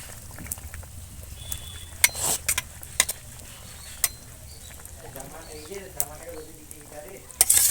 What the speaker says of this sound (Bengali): ঝোলটা খুব ভালো করে ফুটছে এবার ভেজে রাখা বেগুনগুলো দিয়ে দিচ্ছি